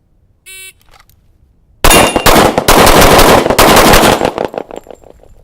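Rapid string of 1911 pistol shots fired in a timed speed drill, loud and close, following a short electronic start beep, with several quick reports packed together before ringing off.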